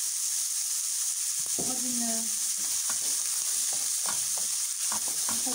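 Onion frying in table oil in a pan, a steady close sizzle running throughout with occasional stirring clatter, and a person speaking briefly over it.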